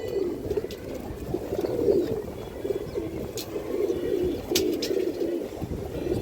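A ring-eyed male pigeon, about a hand long, coos continuously, a low, rolling murmur that stays close and steady throughout, with faint chirps in the background and no speech.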